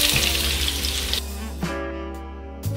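Onions go into a pot of hot, spiced oil for mutton biryani, giving a loud hissing sizzle that swells at once and then settles into a steadier, softer frying crackle, with a few small clinks, close by and without talk.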